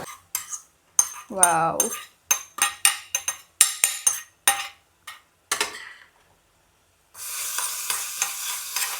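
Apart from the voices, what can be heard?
fried ingredients stirred into carrot halva in pan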